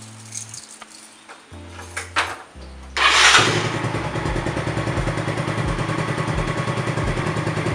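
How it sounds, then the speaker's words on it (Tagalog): A starter whirs in a few short attempts, then a small Yamaha Mio scooter engine catches and settles into a steady, buzzing idle close by. "So, ayan, start na natin itong motor."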